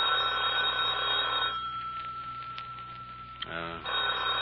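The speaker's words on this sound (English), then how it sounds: "Phone's ringing." A telephone rings in repeated electronic trills, loud and close, with a pause between bursts and a voice speaking faintly underneath.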